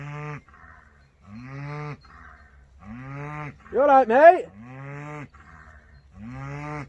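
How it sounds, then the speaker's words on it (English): Cows in a field beside a wild camping spot give several long, loud, close moos in a slow rhythm, and someone speaks briefly between them. "Bloody cows. You hear him?"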